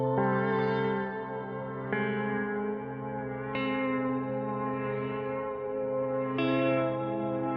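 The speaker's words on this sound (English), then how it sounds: "bit of ripple." Sustained synth tones with reverb and a rippling modulation effect, built in the Outgrowth app on iOS, shift pitch in several distinct steps over a steady drone, loud and without voices.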